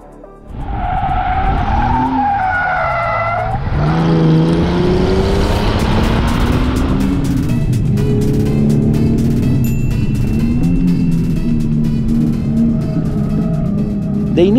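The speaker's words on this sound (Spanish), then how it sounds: "vamos a ver cómo se comportan estas llantas, manejándolas al límite en esta pista" Chinese-made tires squeal loudly on a car driven at the limit on a race track, with sustained, wavering tire screech over engine roar for the whole stretch, close and continuous.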